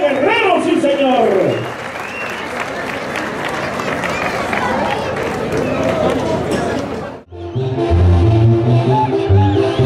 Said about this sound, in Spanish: Venga, fuerte el aplauso